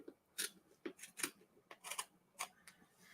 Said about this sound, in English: that's where I'm going to use my scissors to trim that away